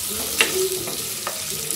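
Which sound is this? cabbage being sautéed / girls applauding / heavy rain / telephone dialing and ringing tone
cabbage being sautéed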